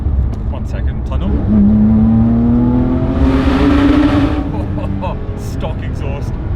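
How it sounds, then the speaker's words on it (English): Porsche 997.2 GT3 RS on its stock exhaust accelerating through a tunnel, the flat-six revving up with a rising whine and a loud echoing burst, close and dominant, with a voice speaking over it. "Stock exhaust madness."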